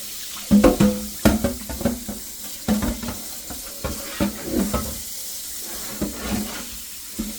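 Tap water runs over a non-scratch wire dishcloth as it is wetted by hand at a sink, close and fairly loud, with bursts of splashing and rubbing and no one talking.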